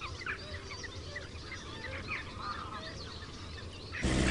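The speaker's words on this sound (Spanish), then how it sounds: "Doñana se convierte de nuevo en un espejo y recibe a las aves migratorias." Migratory birds gather on the flooded Doñana wetlands in Andalucía, giving off a scattered chorus of chirps and calls at moderate distance over a soft outdoor background, ending with a sudden rougher noise.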